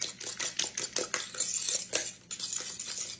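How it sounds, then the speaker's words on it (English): A spoon scrapes and clinks against a bowl as sugar is stirred into a custard pie mixture, a steady run of close metallic taps and scrapes with no talking. "Now we're going to mix in 1 cup of sugar into this. Stir that around real good."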